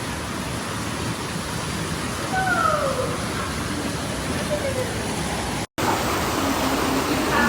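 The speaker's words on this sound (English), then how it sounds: "it's slightly raining" Light rain falls steadily outdoors by a garden hut in the Cotswolds, a broad even hiss with faint birdsong calls drifting through it and a brief dropout near the end.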